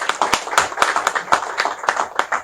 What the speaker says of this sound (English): I think you should join me in clapping for him for that.